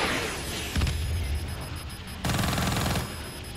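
Bursts of automatic gunfire in the game Call of Duty Black Ops 3 erupt twice, loud and rapid, with a rumbling, busy backdrop between them.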